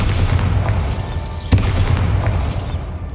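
A Bombarda spell detonates in Hogwarts Legacy, a dense rumbling blast that fills the moment, with a sharper crack partway through before the roar tails off.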